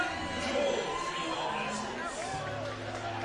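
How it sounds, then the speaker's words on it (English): Spectators at an Australian Baseball League game between the Melbourne Aces and the Adelaide Giants cheer and chatter as a distant crowd, a faint, steady roar of voices that sits low beneath a commentator talking. "Crowd still cheering enthusiastically."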